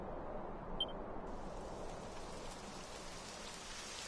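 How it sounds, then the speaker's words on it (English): Steady rain falls in Dragon Quest XI, a continuous even hiss of rainfall on surfaces that holds at a moderate level throughout, with no other sounds above it. "It would have to go and start raining, wouldn't it?"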